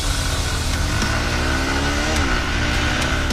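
A Yamaha FZS motorcycle with a 153cc carbureted engine accelerates, its engine note rising through the gears in a steady, loud drone recorded close, with constant wind noise and no talking.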